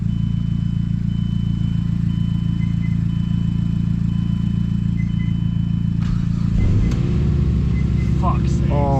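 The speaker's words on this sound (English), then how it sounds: "She runs without the belt. That fired up right away." A Mazdaspeed 6 car engine idling with its drive belt removed, a steady close rumble that shifts and roughens near the end with some clatter, while people talk nearby.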